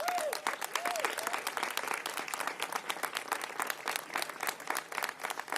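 An audience at a Women's Equality Day celebration breaks into steady applause, a dense, even patter of many hands clapping that holds for several seconds at moderate volume, with a faint voice near the start.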